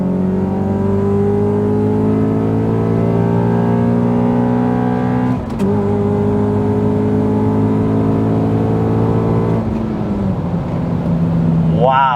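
A stock CL7 Honda Accord Euro R racing a modified CL9 Accord Type S, with the K20 engine heard from inside the car as a loud, rising drone climbing through the revs. A brief gear-change dip comes before the pull continues, and a voice speaks over it.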